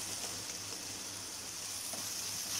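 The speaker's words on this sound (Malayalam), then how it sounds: "ചേർത്ത് കൊടുത്തൊന്ന് വഴറ്റുക" Sliced onions with half a teaspoon of turmeric powder sautéing in a pan for Kuttanadan-style karimeen mappas, a soft, steady sizzle and crackle of frying with faint stirring, moderately quiet and without talk.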